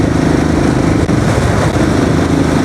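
A Royal Enfield Classic 350 BS6 motorcycle riding at high speed, a steady loud engine drone mixed with rushing wind, continuous and close throughout with no pauses.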